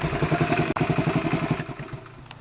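Honda CT70 mini bike engine idling at close range, a steady, fairly quiet putter with a rapid even pulse, a brief click partway through and a slight change in tone toward the end.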